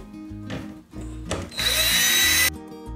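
A power drill drives a screw into a wooden planter box, with brief bursts of whirring and then a longer loud grinding run of about a second, close up, over a low background hum and no talking.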